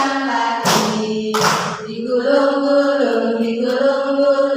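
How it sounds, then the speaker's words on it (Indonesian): A group of women at a school training session clap their hands twice in quick succession, loud and close, then a sung melody carries on without further claps. "Buka tutup, bertepuk tangan."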